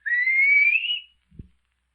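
A person whistles to call a horse in a radio drama: one clear whistle that rises slightly in pitch and lasts about a second, followed after a pause by a single short, dull low thump.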